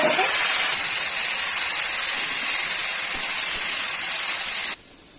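Ingredients tipped into a hot pan with dried red chilli and nigella seeds, a loud, dense, continuous hiss of frying oil that holds steady for several seconds, then drops sharply near the end.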